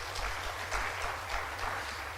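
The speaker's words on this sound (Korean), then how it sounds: "우리 가정을 위해서 한번 격려의 박수 한번 올려주시기 바랍니다" A church congregation clapping steadily in a room during a service, a dense patter of applause at moderate volume with no voices on top.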